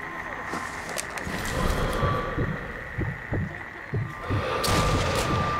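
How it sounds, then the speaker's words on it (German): Sniper rifle shot in the co-op PC shooter Sniper Elite 3, several sharp booming reports and thuds spaced through the clip over a dull background rumble. "124 Meter Schuss."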